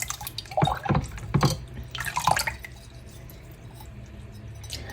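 A puja diya is rinsed clean with water, giving a few close bursts of splashing and dripping in the first half before the sound trails off into quiet.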